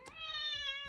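A cat lets out one drawn-out, tonal meow, close and clear, with no other sounds around it.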